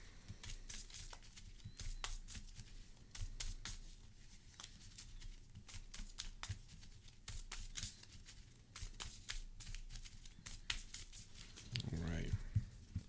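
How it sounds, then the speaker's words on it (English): Marvel Champions game cards are shuffled by hand on a tabletop in repeated quick riffling bursts that continue for most of the stretch, fairly close and moderately loud. "Shuffle these up."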